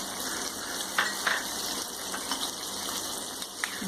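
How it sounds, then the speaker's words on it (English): Mustard seeds crackle and sizzle in hot ghee or oil for a dal fry, a steady close frying hiss with a few sharp pops scattered through it, no voices. "Now in this we will add mustard seeds"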